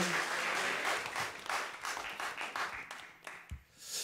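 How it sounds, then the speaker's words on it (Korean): A church congregation applauds during a Sunday morning worship service, a dense wash of clapping that stays loud and steady before thinning and tapering off near the end. "하나님께 영광의 박수 올리겠습니다"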